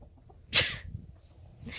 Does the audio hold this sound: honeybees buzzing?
no